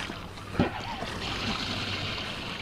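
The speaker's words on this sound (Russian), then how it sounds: "Вода уходит аж шумом." Water draining out of a light self-bailing kayak after buckets of water were poured in, a soft steady rushing gurgle close by with one brief knock early on.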